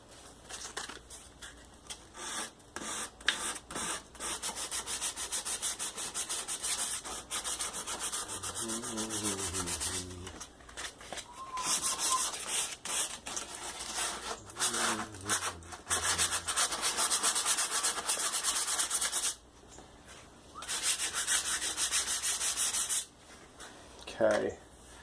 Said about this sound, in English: So I'm going to need maybe an inch and a half of sanding on each side